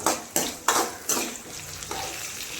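Onions frying for peanut chutney in a pan on a stove over medium heat, with about four scraping stir strokes against the pan over a soft steady sizzle.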